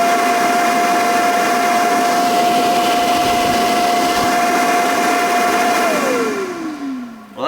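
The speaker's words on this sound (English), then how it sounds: "Let's try with the blower first." An electric blower running at full power under test, a loud steady whine with a high tone that holds, then falls as the motor spins down at the end.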